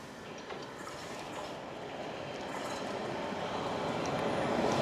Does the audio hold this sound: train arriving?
yes